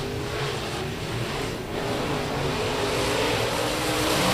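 USRA Modified race cars roar around a dirt track at a raceway during a heat under green flag, a dense continuous engine drone swelling slightly as the pack passes, loud and without talking.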